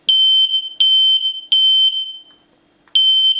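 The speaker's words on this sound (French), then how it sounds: "je vais maintenir appuyé le bouton et vous allez voir un peu ce qu'on arrive à obtenir en termes d'intensité sonore" A gray Jalo Helsinki smoke detector test alarm sounds close and piercing, four shrill beeping pulses in a steady rhythm with a short pause before the last one.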